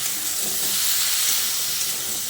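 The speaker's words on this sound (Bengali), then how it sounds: "এবার সব কিছুকে আবারও ভালো করে কষিয়ে নিচ্ছি।" Potatoes and pumpkin sautéing in a pan for a fish-oil curry, giving a steady, close hiss and sizzle of frying that runs unbroken throughout with no speech.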